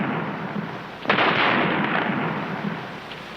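An artillery volley of practice guns firing non-explosive shells during a US Army demonstration erupts as one sudden loud boom that rolls into a long sustained rumble, with no voices heard.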